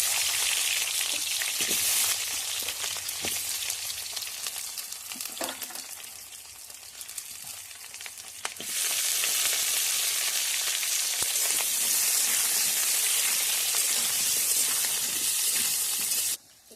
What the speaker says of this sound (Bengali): এখানে তেলটা গরম হয়ে গেছে, আলুটা একটু হালকা করে ভেজে নেব।